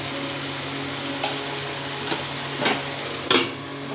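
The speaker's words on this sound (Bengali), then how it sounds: "দেখুন মোটামুটি কষা হচ্ছে মাংসটা" Chicken and cabbage sautéing in a pan, a continuous low sizzle with a few scraping stirs of a spoon, close and moderately loud, no talking.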